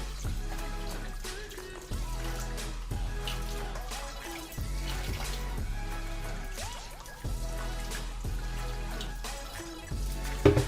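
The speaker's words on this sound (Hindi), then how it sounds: "पानी बंद करेंगे।" Tap water runs steadily into a sink while pig trotters are rubbed and washed, a continuous splashing flow with brief clatters and handling noises and no talking.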